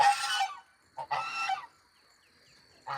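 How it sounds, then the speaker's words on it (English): Young geese on a farm honk loudly and close by, three short bursts separated by brief pauses. "The little geese."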